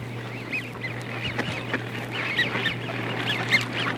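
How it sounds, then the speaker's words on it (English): Mallard drakes gabble in quick, rhythmic bursts of raspy chatter, moderately close, with a low steady hum running underneath throughout. "Listen to those big old greenheads gabble."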